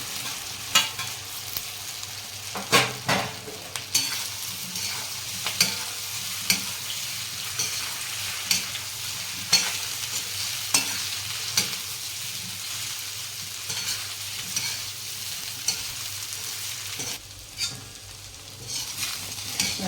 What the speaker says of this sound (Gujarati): હવે આપણે ભજીયા નાખી દઈશું કટ કરેલા.